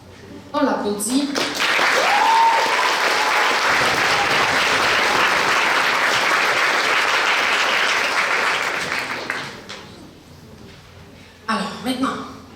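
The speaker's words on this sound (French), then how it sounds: "on l'applaudit." An audience claps steadily for several seconds at a regional science fair awards ceremony, the applause swelling quickly and then tapering off, with brief voices before and after.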